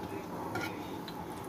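Quiet scraping and clinking of a utensil stirring and flipping green chillies in a pan, with a faint sizzle underneath.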